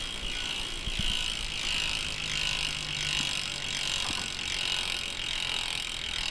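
A DT Swiss bicycle hub being spun, its ratchet giving a fast, continuous buzzing click that stays fairly steady and close throughout, with no talking.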